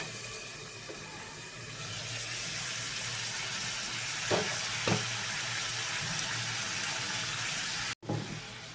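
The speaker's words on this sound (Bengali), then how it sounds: "এখন মাংসটার অবস্থা করি, মাংসটা কষানো হয়ে গেলে যেটা আলু দিয়ে তারপর ঝোল দেবো।" Meat being braised and stirred in a pan: a steady, close sizzle with a couple of sharp scraping stirs, then a brief dropout and a clatter near the end.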